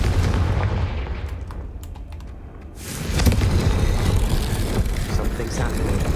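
A Confringo fire spell goes off in a Harry Potter video game, a sudden loud blast breaking a brief lull and then rolling on as a dense, noisy rumble with crackling.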